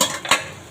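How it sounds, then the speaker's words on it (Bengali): A spoon scrapes and clinks against a pan while potatoes fry with spices, giving a soft sizzle and one brief clatter of stirring, close up and without voices. "2-3 মিনিট পর আমি আলুটা চালিয়ে দিই"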